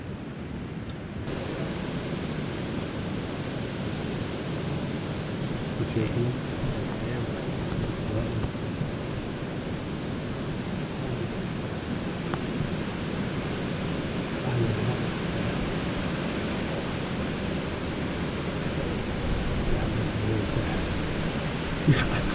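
Strong wind sweeps across a big open field on the edge of Ohio whitetail hunting grounds. It makes a steady, dense roar and rush that stays unbroken for the whole stretch, and no clear talking is heard over it.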